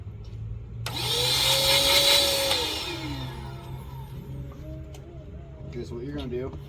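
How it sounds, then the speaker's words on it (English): A vacuum cleaner is switched on during a truck bed camper build, whining up loudly, running for about two seconds and then winding down, followed by people talking nearby. "Is this a vacuum? Let's vacuum, yeah."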